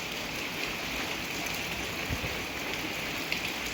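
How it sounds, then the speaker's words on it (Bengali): Heavy rain falls steadily after a storm, a continuous hiss of drops drumming on surfaces close by, even in level and unbroken, with no voices. "পুরো বৃষ্টি হচ্ছে,"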